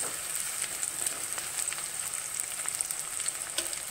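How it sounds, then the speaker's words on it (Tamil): Onion, garlic and green chilli sautéing in a pan for a curry, a moderate, even sizzle with light crackles and occasional stirring taps, no one speaking. "குழம்புக்கு இந்த வெங்காயம் பூண்டெல்லாம் நல்லா வதங்கணும்"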